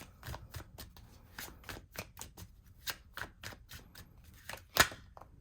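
Tarot cards are shuffled and drawn by hand in a quick run of crisp, rapid riffling snaps, close and clear, ending with a louder slap of a card being pulled.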